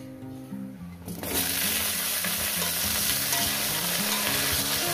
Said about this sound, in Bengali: এরপর এর মধ্যে আমি বেগুনগুলো ভেজে নেব